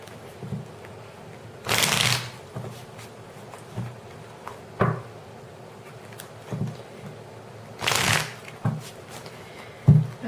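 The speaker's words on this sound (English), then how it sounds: "Good Lord, that's a long ass shuffle right now." Tarot cards shuffled by hand, soft papery riffles and taps recurring irregularly, with two longer louder riffling bursts, close and fairly quiet with no talking.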